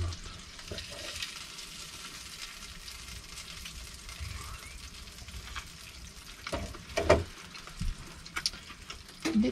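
Tomato cooking in a hot pan inside a converted camper van, giving a steady low sizzle with occasional louder crackles and utensil clinks near the end.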